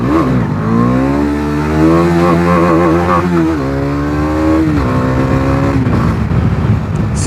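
A Bajaj Dominar 250 motorcycle engine roars loud and close during a wheelie on a windy day, pitch climbing and wavering as the throttle is held, then dropping off near the end.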